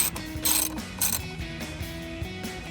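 Ratchet spinning in a mirror mounting bolt on a 2019-2025 RAM 1500 during a power folding mirror install: a close, quick run of light clicking pawl ticks in steady rhythm, fairly quiet.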